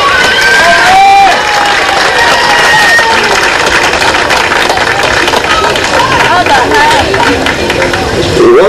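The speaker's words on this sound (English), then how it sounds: "Let's give all the contestants a round of applause." Outdoor crowd at a 1981 Washington, DC soap box derby local race applauding and cheering the contestants, loud continuous clapping mixed with shouts, whistles and crowd chatter throughout.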